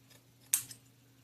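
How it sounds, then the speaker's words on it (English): Scissors snipping the ribbon tails of a handmade bow, a single crisp close cut in a quiet room over a low steady hum. "Now you can cut your tails."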